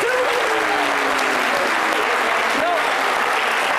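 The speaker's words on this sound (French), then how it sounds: "Candidat libre, applaudissez pour toi." Loud, continuous studio audience applause on a television talk show, with cheering voices over the clapping throughout.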